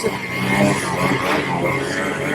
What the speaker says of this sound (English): we got 3 165 Ski-Doo turbos out today, and then I'm on the 146